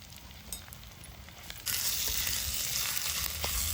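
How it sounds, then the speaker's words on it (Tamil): Tomato, green chilies and ginger-garlic paste sautéing in a pan for an outdoor garden chicken curry, giving a steady sizzle that grows noticeably louder partway through and then holds, with no voices. "நல்லா வதங்கட்டும்."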